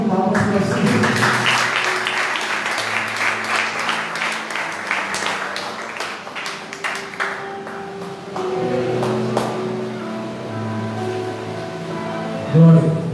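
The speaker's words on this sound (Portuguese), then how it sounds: "Você senta e dá uma linda salva de palmas para o Senhor." A church congregation claps together, a dense crackle of applause that fades beneath sustained musical tones and voices, with a brief louder burst near the end.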